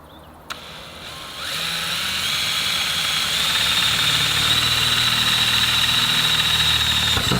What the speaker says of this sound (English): I gotta drill a smaller hole first